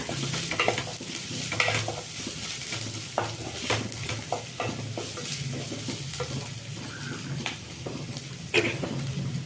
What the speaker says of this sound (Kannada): ಎಳ್ಳು ಹಾಕ್ಕೊಳ್ತಾ ಇದ್ದೀನಿ ನಾನು, 1-2 ಸ್ಪೂನು ಎಳ್ಳು ಸ್ವಲ್ಪ ಫ್ರೈ ಮಾಡ್ಕೊಳ್ಳೋಣ